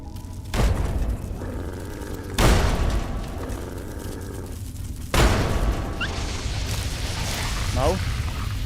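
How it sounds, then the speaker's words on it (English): Grenades thrown and exploding in Fallout 3, three loud booms spaced a couple of seconds apart, each with a rumbling tail, over a steady background of game ambience. "Let's start chucking grenades."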